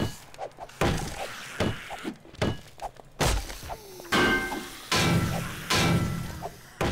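A pickaxe strikes a door over and over in the video game 7 Days to Die, giving loud, irregular thuds and slams with the louder hits coming later.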